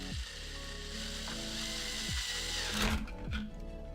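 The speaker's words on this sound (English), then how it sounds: "So let's drill a hole right here." A power drill whirs steadily, its motor pitch shifting and dipping a few times as it bites into material, close by with no talking.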